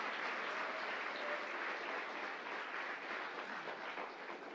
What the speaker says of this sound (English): think that's worth another round of applause